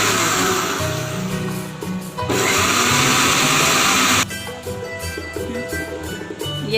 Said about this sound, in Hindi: ये अब मैं क्रीम को अच्छी तरह ग्राइंड करूँगी।